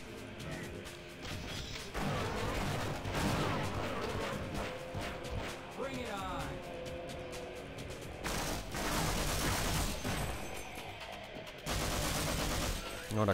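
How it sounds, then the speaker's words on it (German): Gunfire from a firefight in the Half-Life mod Exodus, bursts of shots and crashing impacts running through most of the stretch, with someone talking over parts of it. "Ach, wieso schießt er auf mich?"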